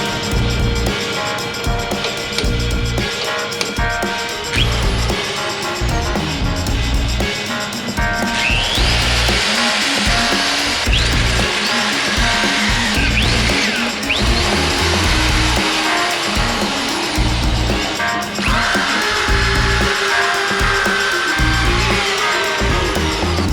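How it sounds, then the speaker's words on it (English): Loud, sustained whine of a power drill running for a long stretch, with shifting pitch and grinding tones as it bites into the metal of a VW engine's exhaust pipe. "I need to get the hole drilled in the exhaust pipe"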